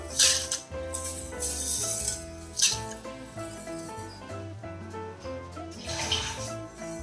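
Washed green gram is tipped into a cooking pot, making a wet rattling patter of small beans and water. The sound is moderately quiet, with a few stronger bursts.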